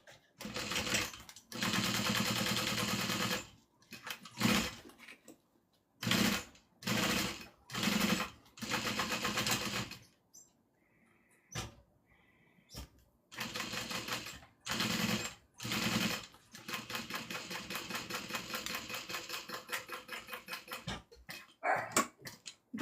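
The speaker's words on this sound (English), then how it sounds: "we're gonna top stitch around the outside, and then we're going to stay stitch the bottom." A sewing machine top stitching around a satchel bag runs in a series of rapid mechanical bursts, some short and some sustained, close and fairly loud, with pauses of near silence between runs.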